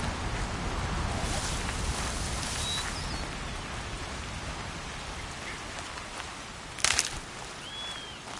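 Rain falls steadily in the Horizon video game as a dense, even hiss of drops on surfaces, with a brief louder splash burst and faint bird-like chirps.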